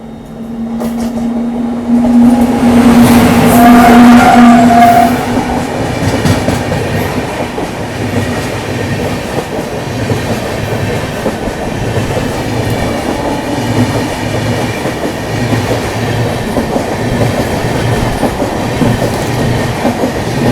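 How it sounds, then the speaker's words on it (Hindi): The Pune–Mumbai Pragati Express, with a Vistadome coach, passes close near Panvel, a loud sustained rumble with rhythmic clickety-clack of wheels over rail joints and a brief horn-like tone early on. "सामने से आ रही है पुणे मुंबई प्रगति एक्सप्रेस"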